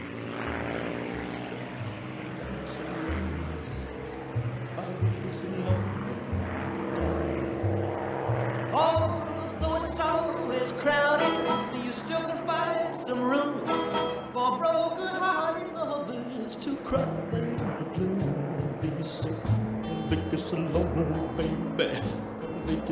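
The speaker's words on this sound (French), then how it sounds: "Au décollage, le chasseur le plus iconique de la Seconde Guerre mondiale, notamment avec son sifflement, le P-51 Mustang." A P-51D Mustang WWII fighter takes off at an air show, its propeller engine droning steadily with a whistling tone that grows louder and more tonal midway, alongside crowd chatter.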